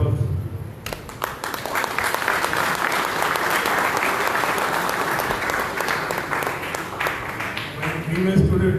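An audience applauds at a prize distribution function for a cooking competition and coffee table ebook launch: sustained, full clapping that swells after a brief start and continues steadily, with a voice faintly audible near the edges.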